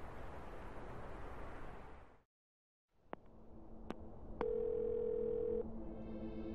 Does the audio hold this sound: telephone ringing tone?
yes